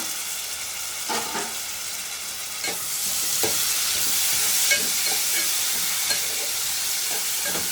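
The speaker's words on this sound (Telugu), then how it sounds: "ఉల్లిపాయలు అయితే ఇట్లా ఎర్రగా వేగాల్సిందే వేగితేనే బాగుంటాయి" Onions fry steadily in a pan, a continuous close sizzle with occasional stirring clicks and scrapes, no talking over it.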